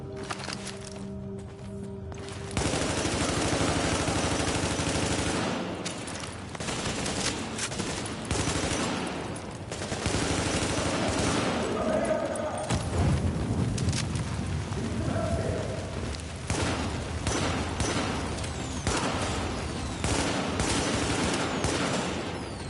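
Gunfire in the video game The Division during a survival PvE match, a long stretch of sustained automatic and rapid shots with brief gaps, loud and dense throughout.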